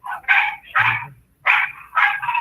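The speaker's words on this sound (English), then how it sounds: "hold on, I'm sorry, the dog's barking." A dog barks nearby in four loud, sharp barks in two quick pairs, with brief silence between them.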